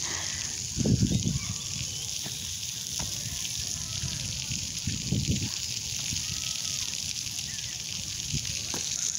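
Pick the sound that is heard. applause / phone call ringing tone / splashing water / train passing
splashing water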